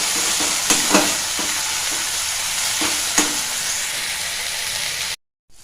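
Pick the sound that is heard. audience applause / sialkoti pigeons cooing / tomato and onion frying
tomato and onion frying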